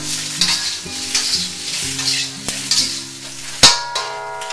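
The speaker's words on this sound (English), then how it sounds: "as you're stirring the shrimp" Jumbo shrimp seasoned with salt and pepper stir-fry in a hot pan, giving a continuous close sizzle broken by repeated scraping strokes and one sharp metallic clink of the utensil against the pan.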